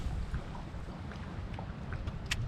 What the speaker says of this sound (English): The wind's really blowing hard